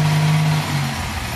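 Chevy Malibu engine revving lightly under a little throttle, a steady close mechanical drone with a low hum that dips partway through, no talk.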